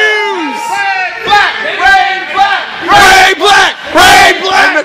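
A wrestling event crowd roars and chants in loud, overlapping bursts of voices, swelling and falling in waves, very close and dense.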